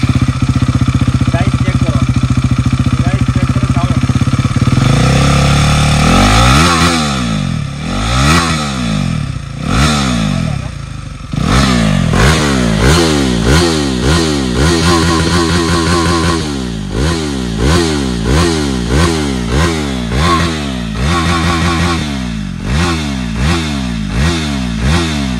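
A motorcycle engine with a homemade custom exhaust idles, then revs repeatedly in sharp rising bursts, loud and close, with a deep throaty exhaust note.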